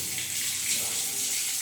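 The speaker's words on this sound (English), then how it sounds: "testing out the hot water" Hot water runs from a tap in a restroom, a steady hissing rush that stays even throughout, fairly quiet and heard alone.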